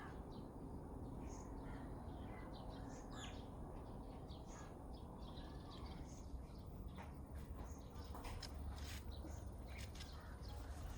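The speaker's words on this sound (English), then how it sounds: "we've got the birds over there" Birds near an aviary at sunset, with crow-like caws and scattered chirps at a moderate distance over a constant outdoor hum, and no talk.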